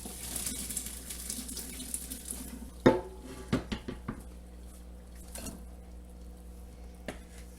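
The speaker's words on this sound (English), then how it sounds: "so now we're going to go ahead and move it to the sink, and we're going to go ahead and strain that out" Cooked dry beans from a Dutch oven are strained in a kitchen sink, water pouring and trickling steadily, with several sharp metallic clanks of the pot against the strainer and sink.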